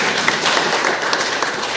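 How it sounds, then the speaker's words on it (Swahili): Audience applause fills a short stretch at a celebration gathering, a dense steady patter of many hands clapping at once, close and fairly loud with no pauses. "Mpige makofi yani."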